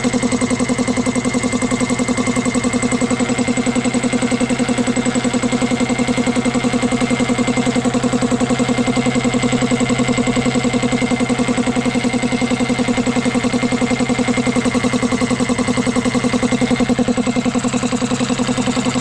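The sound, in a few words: new Vespa motor scooter engine running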